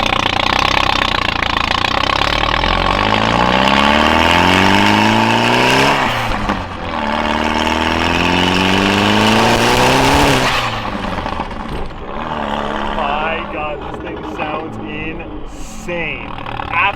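Modified car engine idling roughly, then revving repeatedly in rising and falling sweeps, loud and close, with a few sharp pops; it settles back toward idle near the end.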